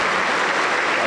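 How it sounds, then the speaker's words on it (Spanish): Pentecostal church congregation in Peru applauding, a short dense wash of loud, sustained clapping filling the room. "aplauso para el Señor Jesucristo"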